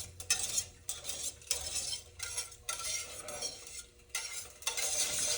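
Onions being stirred in a frying pan, with a utensil scraping and clinking against the pan in repeated bursts over a soft sizzle, close by with no talking.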